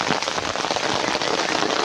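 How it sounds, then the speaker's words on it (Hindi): Heavy rain pours down steadily on surfaces outdoors, a dense, loud, unbroken hiss of drops with no voices. "बाबा की बारिश भी बहुत तगड़ी होने लग गई भैया।"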